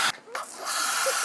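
A car-wash spray cannon hisses out a loud, broad spray, cutting off briefly before resuming as a steady rushing jet during a cleaning of a filthy DC2 Acura Integra.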